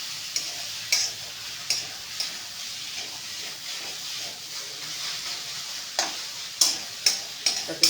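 Paneer stirred in a pan: a soft frying hiss under sharp, irregular clicks and scrapes of a spatula against the pan, getting quicker and more frequent toward the end, with no voices.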